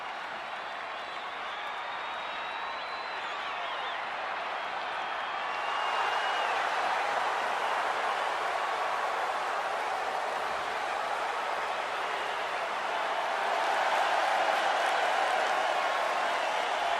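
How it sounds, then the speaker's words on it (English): Arena crowd in the WWE 2K24 wrestling game cheering and applauding at SummerSlam, a steady wash of distant roaring with swells of louder cheering partway through. "And just listen to that crowd."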